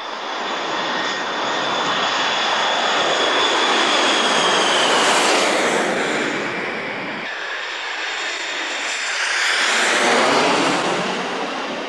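Airliners roar overhead on approach to the world's busiest airport, two loud jet-engine passes swelling and fading one after another with a high whine over broad rumble.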